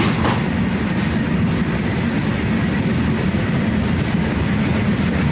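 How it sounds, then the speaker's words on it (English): Anaconda train made of three goods trains coupled together, about 2 km long with three engines, rumbling steadily and loudly throughout with a dense low roar and a faint rhythmic clatter of wagons. "It is a combination of three goods trains, big one after another, 2 kilometer long, with 17 bogies and 3 engines"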